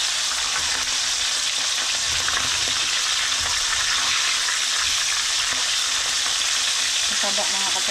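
Steady, dense sizzling of lipti fish frying in hot oil fills the clip, loud and constant, with faint clinks of a utensil near the end.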